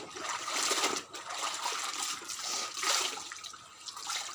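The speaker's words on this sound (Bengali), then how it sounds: "কোনো মতো তাড়াতাড়ি করে কাপড়গুলো চিপে নিয়ে যাই।" Wet clothes being wrung out after bathing give a continuous splashing, dribbling rush of water in surging waves, close and steady with no talk.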